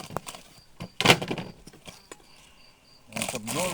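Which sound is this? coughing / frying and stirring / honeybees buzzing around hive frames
honeybees buzzing around hive frames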